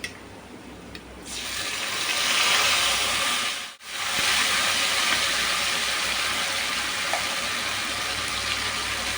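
A loud, steady sizzle of ginger-chili paste hitting hot oil with browned potatoes, a broad hiss that swells up after a moment, cuts out briefly, then resumes unbroken.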